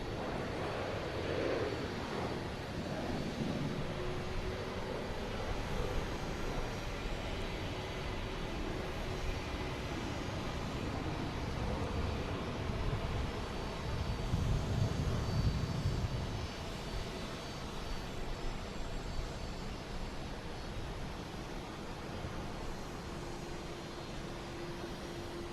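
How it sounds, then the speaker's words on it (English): An Alaska Airlines jet takes off from runway 4R at Boston Logan, its engine roar a broad, sustained rumble that builds to a peak midway before easing, heard from a distance over wind with no talk. "Here's Alaskan Airlines, taking off from 4 right."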